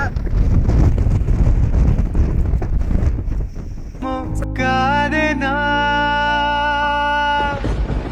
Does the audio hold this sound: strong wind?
yes